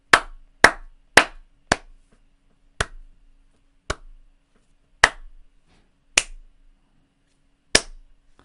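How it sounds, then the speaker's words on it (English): Nine sharp hand claps, sounded alone in a quiet room, the first four quick and evenly spaced, the rest spread out with longer uneven gaps. "It's gonna like be lots of like bumps because I was clapping."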